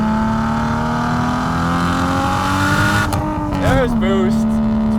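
A Nissan Skyline R34 GT-T sedan, turbocharged and making nearly 400 wheel horsepower, revs loud and close with a steady droning tone that climbs, then dips and wavers as boost builds, ending in a chirpy fluttering burst.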